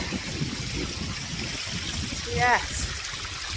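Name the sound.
small waterfall stream flowing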